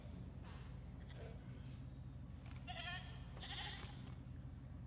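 A goat bleats a few times in the video game Jurassic World Evolution 3. The calls are faint and short and sit over a steady low background rumble of game ambience.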